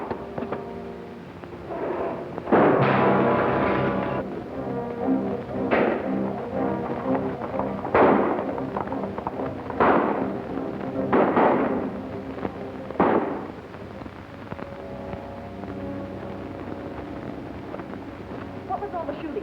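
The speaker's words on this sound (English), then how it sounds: "What was all the shooting?" Gunfire in a classic western movie: a series of sharp, loud shots spaced a second or two apart, some in quick pairs, booming over a background score.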